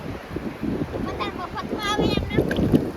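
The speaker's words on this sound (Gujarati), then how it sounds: "વાવડો મોજો કેટલો આમ જુઓ" Strong wind roars over waves at sea aboard a fishing boat out catching prawns, a steady rushing noise with voices talking over it.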